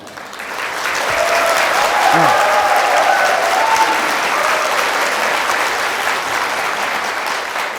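A lecture audience at a Korean talk on suicide prevention claps together, a dense, sustained burst of many hands that swells and stays loud for several seconds, with a faint voice briefly surfacing underneath.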